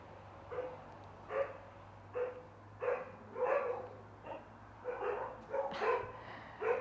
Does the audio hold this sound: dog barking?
yes